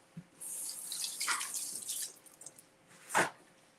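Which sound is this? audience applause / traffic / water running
water running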